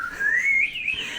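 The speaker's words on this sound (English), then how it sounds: "A bird whistle or I don't know. Warbler." 3D-printed water warbler bird whistle, filled with water and blown once, giving a short bubbling, trilling whistle that rises slightly in pitch, close and clear with nothing else.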